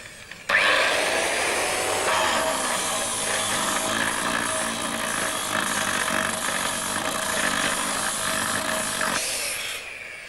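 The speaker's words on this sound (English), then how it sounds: "But now watch what happens when I try the disc out on the safe." A silicon carbide cutting disc grinds against the steel of a Lips-made Europlanet safe, a loud, continuous high-pitched shriek and roar that starts abruptly and holds steady for about nine seconds before cutting off.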